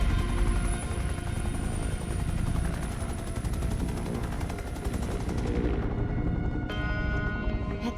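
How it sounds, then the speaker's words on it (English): Helicopter going down in the video game inFAMOUS First Light, a dense loud roar of rotor and engine noise mixed with rapid gunfire and crashing, fading and cutting off near the end. "That chopper's ditched."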